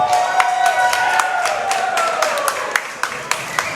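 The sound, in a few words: wrestling crowd cheering and applauding a high-risk maneuver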